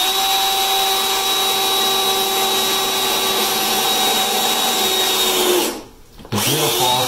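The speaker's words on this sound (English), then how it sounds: "So I'll just drill a hole right here." A power drill bores a hole through a wooden stair tread, a loud, steady, high whine lasting several seconds before it stops abruptly and briefly spins down, then restarts.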